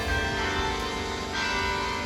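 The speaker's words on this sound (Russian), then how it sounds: "Колокола." Carillon bells play from the façade of the Palace of Dynasties in Brussels, sustained ringing tones layered over one another and continuing evenly throughout, with no talking.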